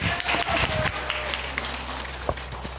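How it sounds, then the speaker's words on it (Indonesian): An audience claps for a speaker at a thyroid cancer talk-show symposium. The applause is moderate and close, busiest at first and then thinning into scattered claps over a low background hum. "Tepuk tangan Bu."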